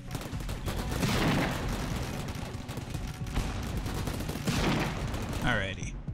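Sustained barrage of gunfire in the colony game Rimworld on hard mode, a dense, continuous rattle of shots and booms with intensity swelling and easing throughout.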